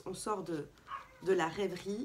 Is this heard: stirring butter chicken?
no